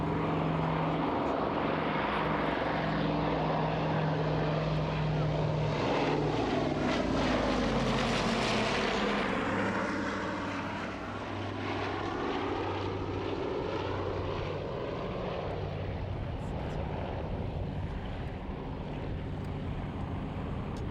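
A large radial engine on a Lockheed C-121A Constellation propeller aircraft cranks and catches, building into a loud, steady roar with whining pitch sweeps, close by and continuous.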